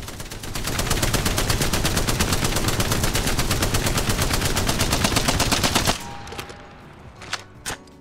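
Spitfire light machine gun in Apex Legends firing one long unbroken burst of rapid, evenly spaced loud shots, then stopping abruptly, followed by a few softer clicks and mechanical clatters as the weapon settles.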